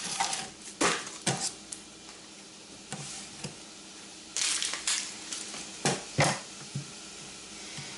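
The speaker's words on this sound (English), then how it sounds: "we're gonna dice an onion" A knife dices an onion on a cutting board in a kitchen where bacon is cooking, giving sharp irregular chops in short bursts, close and fairly quiet, with no talk.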